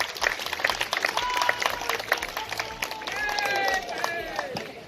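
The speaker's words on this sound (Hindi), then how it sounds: "मैं एक जोरदार ताली का अभिनंदन वो करता हूं कि इनके लिए बजाई जाए" Crowd applause for a speaker at a political rally in Kanpur, a dense wash of clapping that stays fairly steady throughout, with voices and a whistle-like tone mixed in.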